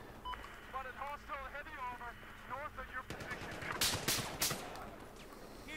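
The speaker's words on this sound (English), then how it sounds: "That ship's taking pot shots at us, right? That battleship?" Battleship gunfire in Battlefield 4, a few sharp cracking shots near the end following stretches of excited talk, with steady battlefield rumble beneath.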